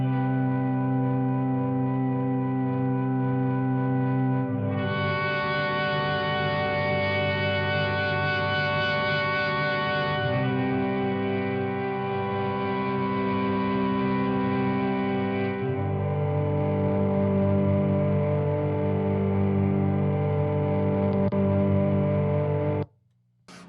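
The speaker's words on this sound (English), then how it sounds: "First thing on here is the Electro Harmonix Super Ego" Electric guitar played through an Electro Harmonix Super Ego Plus pedal, heard as a loud, sustained synth-like drone of layered held chords that shift a few times and then cut off abruptly.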